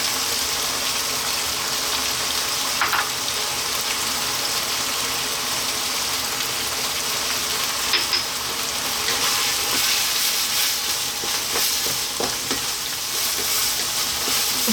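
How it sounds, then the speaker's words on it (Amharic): Garlic and onion frying in a pan while cooking chili beef and rice, a steady close sizzle that runs without a break, with faint clicks and stirring taps and no talking. "አሁን ነጭ ሽንኩርትና ሽንኩርት እንጨምራለን። ለ3 ደቂቃ እንጠብሳለን።"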